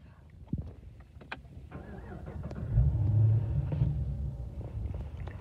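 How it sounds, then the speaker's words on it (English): A black HSV VF Clubsport R8 automatic starts up with a brief crank and settles into a low, throaty idle rumble heard from close by, with a few clicks and knocks around it. "so I'll start the car again"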